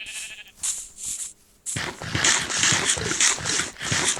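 Sheep in a block-building video game bleat in a few short nasal calls, close and moderately loud, with scattered game noises and no talk.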